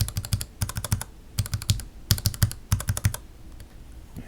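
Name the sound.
typing on Gateron Yellow mechanical keyboard switches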